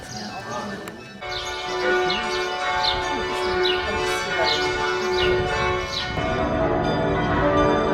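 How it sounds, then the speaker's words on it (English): Church bells ring steadily and loud, their overlapping tones filling the air, with faint voices and outdoor noise underneath. "the bells are getting louder"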